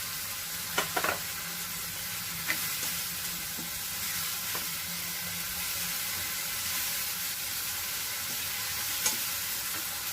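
Tomato puree sautéing with minced chicken and ginger-garlic-chilli paste in a pan, a steady close sizzle with occasional spoon clicks and scrapes throughout.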